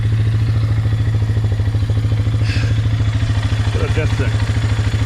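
A quad bike engine idles steadily close by with a fast, even low thump and some mechanical clatter, while someone talks over it.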